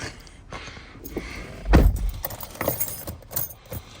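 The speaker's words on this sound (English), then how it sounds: "That's a lot of keys." A large bunch of keys jangles near a car, with scattered metallic rattles and a louder clattering burst in the middle, followed by lighter jingles and soft knocks, close and without talking.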